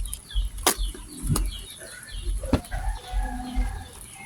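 Outdoors, a rooster and other chickens cluck and call while sharp snaps and rustling handling noises break in at irregular moments, the birds fairly close.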